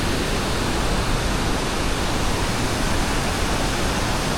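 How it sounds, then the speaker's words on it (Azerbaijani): Massive waterfalls in the Himalayas near Annapurna in Nepal, a dense unbroken hiss of falling water at a constant loud level, with no other sounds or speech. "Super massiv şəlalələr."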